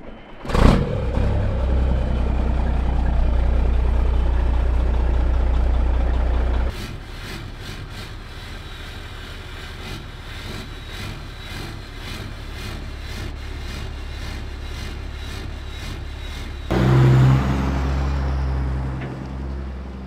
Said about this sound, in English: Let's get the old ranch truck fired up